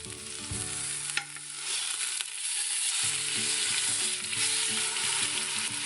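Meat browns in the hot pot of an Instant Pot with a loud, continuous sizzle and crackle of frying fat, close up, with brief clinks and stirring as the pieces are turned.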